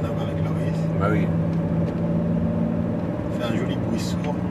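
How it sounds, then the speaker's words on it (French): Car engine droning steadily from inside a moving car, a low constant hum underneath as two people chat casually over it. "Et le bruit du moteur, ouais, ça n'a rien à voir avec Loris."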